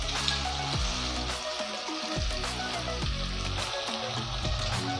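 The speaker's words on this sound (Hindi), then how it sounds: "आलू हमारी जो है ना वो अच्छे से फ्राई हो रहे हैं" Diced potatoes fry steadily in a pan at home, a dense continuous crackle and sizzle with a few dull thuds of turning, close and moderately loud with no talking.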